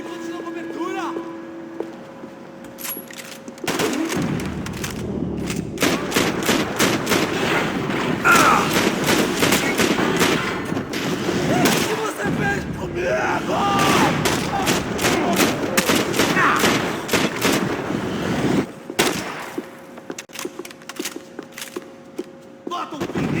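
Rapid bursts of gunfire from the video game Max Payne 3, with repeated sharp shots and automatic volleys sustained across most of the stretch over a busy combat backdrop, while voices shout orders in between.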